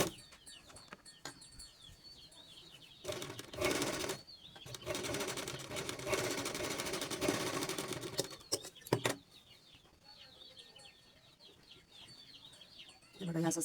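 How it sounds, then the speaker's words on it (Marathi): A sewing machine stitches a blouse, with bursts of running motor and needle noise around three to nine seconds, a short burst near the end, and quieter stretches between. "डबल शिलाई लागलीच लावून घ्यायची."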